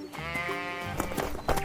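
Sheep bleating on a farm, one long wavering harmonic bleat followed by shorter overlapping calls from the flock, fairly close and clear.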